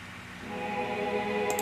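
A string section of violins is layered with a very faint choir in a remake of a song. It forms a dense, swelling wash of music.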